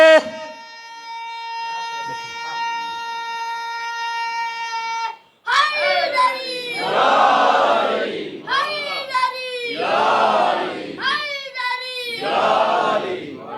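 A Shia majlis congregation with hands raised answers a preacher's slogan: a sustained steady tone comes first, then a large crowd bursts into loud shouted responses in repeated waves, close and filling the space.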